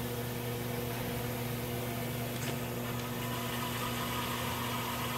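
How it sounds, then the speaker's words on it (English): An STI ST-880 spin rinse dryer runs a quick cycle, giving a steady motor hum and whirring drone with constant airy noise and faint intermittent clicks. "So we're going to start the top one, because that's the one I have the rack in right now, and go through a quick cycle"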